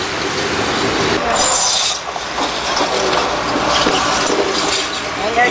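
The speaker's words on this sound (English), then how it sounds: "The rest of the train has arrived," A train arriving and passing close by under a bridge, with continuous loud rumbling and rubbing wheel noise and brief high squeals from the wheels, filling the whole stretch.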